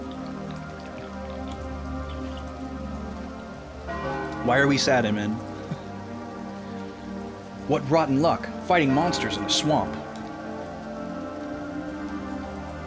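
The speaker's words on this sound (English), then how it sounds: "On top of that, it's raining." Steady rain falling in a swamp in the video game Final Fantasy Tactics, a constant soft patter and drip under two stretches of in-game character dialogue.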